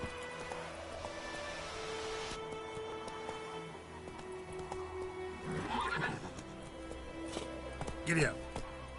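Horse neighing and hooves clopping in The Witcher III video game; a couple of short whinnies ring out over a steady game ambience, with a voice speaking in between.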